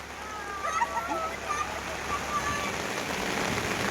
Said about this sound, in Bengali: প্রচন্ড বৃষ্টি সুন্দরবনে প্রচন্ড বৃষ্টি।